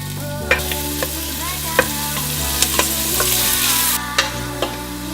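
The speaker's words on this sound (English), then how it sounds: "take one large onion, chop it up, and then add it into a pot. You're just gonna saute it." One large chopped onion sautés in a pot for a tomato soup, a steady sizzle and hiss with repeated sharp clicks and scrapes of a utensil stirring, close and fairly loud, no talking.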